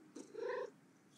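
Oscar, a hairless Sphynx cat, lets out a single short, soft vocal sound close by, rising and falling within about half a second in an otherwise quiet room.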